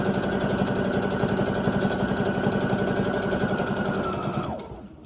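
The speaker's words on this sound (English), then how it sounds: "I'm going to do a couple of stitches, and then I'm going to make make sure that I backstitch so that the stitches don't come out later" A sewing machine stitches fabric at a fast, steady pace, its loud continuous whir and rapid needle chatter running unbroken for over four seconds before the motor winds down and stops.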